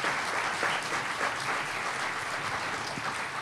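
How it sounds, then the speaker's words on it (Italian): Audience applause at a family association conference in Italy, a steady dense clapping from a seated crowd that carries on evenly without a break, with no voices rising above it. "Allora un applauso e un grazie da parte nostra."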